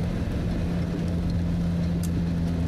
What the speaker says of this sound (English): Oh, you got a loud car.